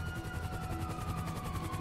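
Police helicopter in the game GTA Online, a steady rapid rotor chop with a droning engine tone at moderate distance, continuous throughout.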